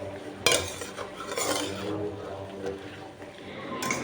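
A ladle stirs tiffin sambar in a pot, with scraping and clinking against the metal sides, moderately loud and close over a steady background.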